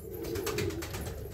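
A Hazara Guli pigeon, an old breed with a feathered crest, coos in a low, continuous rolling call for the whole short stretch, close and steady with no other sounds.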